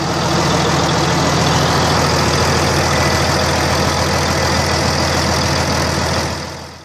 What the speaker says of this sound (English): The Buda 844, later badged under Allis-Chalmers, was a no-nonsense inline six that thrived in tractors and heavy-duty industrial gear.